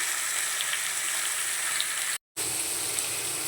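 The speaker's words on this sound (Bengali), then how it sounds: "আলাদা আলাদা করে কিছুই ভাজছি না, সব একসাথে ভেজে নিচ্ছি।" Chickpeas and figs fry together in oil with a steady, bright sizzle, close and constant apart from a brief silent break.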